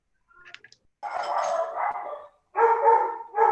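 Dogs bark in a council meeting room in a few short sharp yips, then two longer, rough, sustained howling barks, fairly close with no talk over them.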